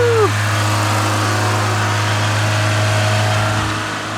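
A Corolla XRS fitted with a Celica C60 limited-slip transmission pulls away, a steady mid-pitched engine drone with a brief rising whine at the start, heard from inside the car.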